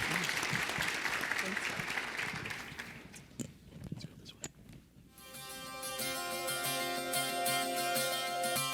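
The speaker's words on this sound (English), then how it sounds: "let's give one more round of applause for our panelists, Erin, Kyra, and Vivian." Audience applause for panelists at an annual celebration dinner, a steady wash of clapping from a crowded room that thins out midway, followed by speech and background music.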